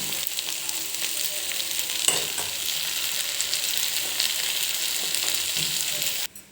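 Cooked green gram hisses and sizzles in a hot oil tempering, a steady bright frying sound with a few soft knocks, cutting off abruptly at the end, without voices.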